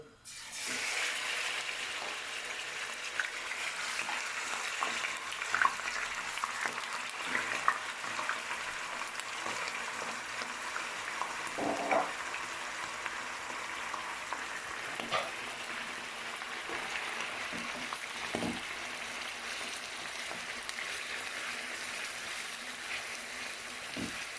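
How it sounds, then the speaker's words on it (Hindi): Chicken pieces frying in hot oil in a karahi, a steady broadband sizzle running throughout with occasional louder pops and crackles, close and continuous with no voices. "ऑयल हमारा गर्म हो चुका है, अब हम इसमें चिकन डालेंगे"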